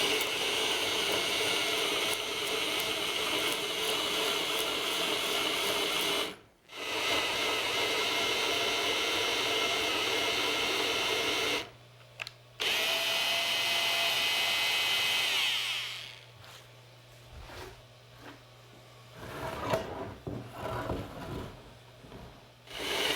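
Holes are drilled into a log bench top about ten inches wide, making a close, steady grinding drone that cuts out twice and resumes, then gives way to quieter, intermittent wood scraping.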